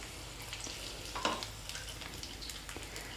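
Stuffed capsicums sizzle softly in a pan over a slow flame while being turned, a steady faint frying hiss with small scraping touches and no voices.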